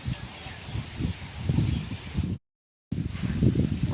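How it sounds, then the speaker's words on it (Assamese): Wind blows through leaves in a yard littered with fallen leaves, a soft rustling with gentle gusts, briefly cut off partway. "বতাহ মাৰি আছে"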